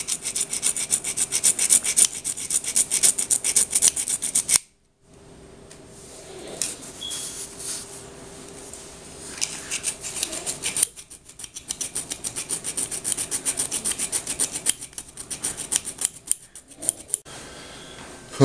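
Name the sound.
filing soft rivets on an RC rock armor bumper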